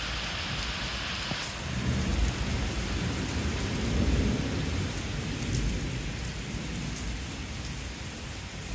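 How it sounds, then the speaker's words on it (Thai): Heavy rain pours steadily on surfaces in the countryside while thunder rolls and rumbles loudly through it, a dense, continuous storm with no voices. "ฝนตกฟ้าร้องฝนตกฟ้าร้อง"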